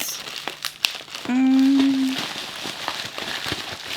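Paper crinkles and crumples as a present wrapped all around with tape is torn open, with a sustained tearing rip in the middle and brief rustles before and after.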